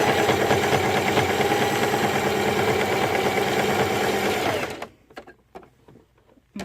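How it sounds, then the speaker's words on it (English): A sewing machine runs steadily stitching a zigzag seam on a DIY dog tunnel, a loud rapid mechanical chatter for several seconds, then stops, leaving a few faint clicks and handling noises. "So with the zigzag stitch, I'm trying to stay as close to the line I already did."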